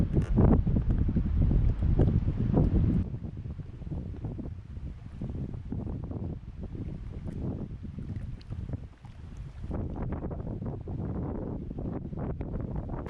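Breezy wind gusts across a lake bay at Lake Brunner, buffeting the microphone with a low, steady rumble and rushing noise that stays loud throughout, with no speech.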